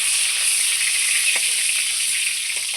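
Pointed gourd (potol) frying in hot oil gives a steady, loud sizzle and hiss throughout, with a few faint taps of a utensil in the pan.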